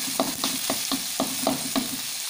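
Shallots, garlic, tomato and chili stir-fry in a little oil with a constant close sizzle, while a spatula scrapes the pan in quick, regular strokes about four times a second.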